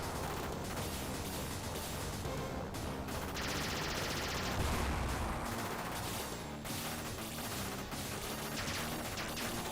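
Rapid gunfire from the video game Super Contra, dense continuous shooting with blasts and crashing explosions layered over game music, loud and unbroken.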